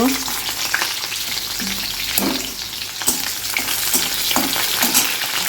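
Onion frying in oil in a second kadai in a home kitchen: continuous close sizzling broken by repeated scraping stirs of the utensil against the pan.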